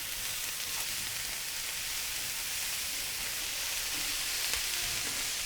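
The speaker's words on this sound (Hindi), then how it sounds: "इसको हम चिकन के साथ मिक्स कर लेंगे और 1 से 2 मिनट तक सौते करेंगे।" Shredded cabbage and green onion sautéing with chicken in a hot pan, a steady, even sizzle of frying that holds constant from start to finish with no voices.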